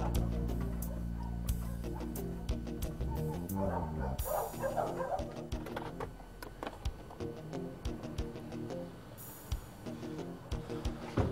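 Dogs at a property checked by a county animal control department, barking and yipping in repeated bursts over a busy background, with some whimpering and no speech.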